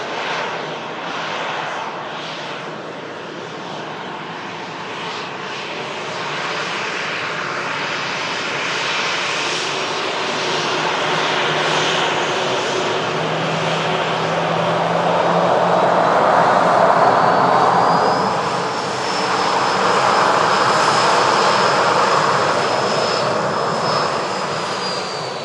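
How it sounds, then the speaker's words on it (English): An aircraft arriving from Pisa approaches and passes over an airport, a sustained jet engine roar that swells gradually over about twenty-five seconds with a rising whine near its loudest point, no voices. "Aircraft arriving in from Pisa, just undertaking a 2-hour, 3 minutes journey."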